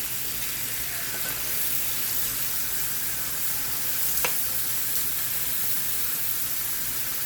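Steak slices frying in a pan give off a steady, even sizzle, with a faint quick scrape partway through and no voices.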